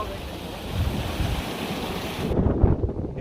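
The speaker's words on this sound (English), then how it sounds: "We're at BOWSCALE TARN. Very windy." Strong, gusty wind buffets the microphone at Bowscale Tarn, a mountain lake in the Lake District, a steady broadband roar that swells louder near the end with low rumbling blasts.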